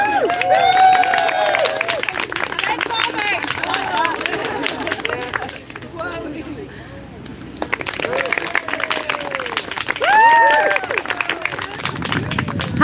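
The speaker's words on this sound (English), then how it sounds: "We're going to do vote by clapping." Crowd clapping at a Halloween costume contest at Speakers Corner, bursts of applause and cheering rising and falling over several seconds amid chatter and voices, with a brief lull in the middle.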